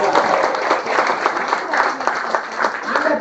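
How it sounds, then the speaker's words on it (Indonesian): An audience claps at a seminar talk, a steady ragged patter of hands with some crowd voices mixed in. "Tepuk tangan dulu dong"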